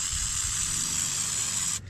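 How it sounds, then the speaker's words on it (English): Penetrating spray hisses in one steady burst onto stuck linkage on an IH 1026 Hydro tractor, close and loud for nearly two seconds before cutting off abruptly. "I'm gonna spray that down and then tap on it a little bit"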